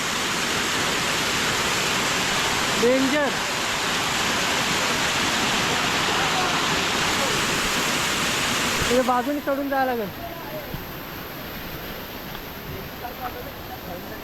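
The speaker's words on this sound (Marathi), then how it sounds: "धबधबा पाणी पडतोय ना त्याची हवा सुटली इथे" Nearby waterfall roaring steadily as a dense broadband rush, loud and continuous, with people talking over it and the roar dropping slightly near the end.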